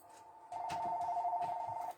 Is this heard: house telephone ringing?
yes